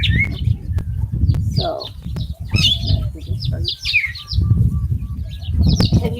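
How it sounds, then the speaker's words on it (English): Birds chirp in bright, short bursts and trills over a low rumbling background, calls coming in clusters across several seconds, with a brief spoken word and some wing-flutter-like noise. "can you hear the birds?"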